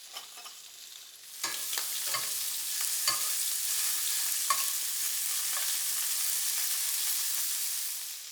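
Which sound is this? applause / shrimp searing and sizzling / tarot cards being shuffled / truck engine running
shrimp searing and sizzling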